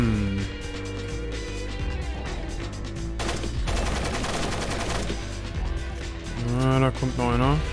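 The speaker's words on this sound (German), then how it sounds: "Oh nein, sie werden gleich schießen." Mercenaries fire on the player in Splinter Cell on PC, with loud, rattling automatic bursts and mechanical clatter. A voice speaks near the end.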